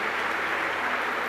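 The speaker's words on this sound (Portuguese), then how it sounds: "Vamos dar uma salva de palmas, isso mesmo." A church congregation at Easter Sunday Mass gives a brief burst of dense, steady applause.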